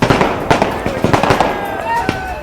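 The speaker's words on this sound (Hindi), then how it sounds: "घर के बाहर आतिशबाजी शुरू हो गई" Fireworks set off outside a house in Rajasthan, celebrating a new chief minister's appointment: a rapid string of sharp cracks and pops, loud and close, under a voice talking over them.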